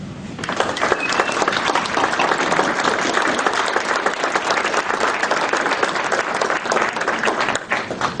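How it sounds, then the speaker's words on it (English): A room full of people at an American Legion veterans' gathering applauds steadily for several seconds, dense, even clapping with a faint crowd murmur beneath. "please give a big applause for our Department Auxiliary President, Candy Houston."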